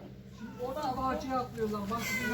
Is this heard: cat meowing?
yes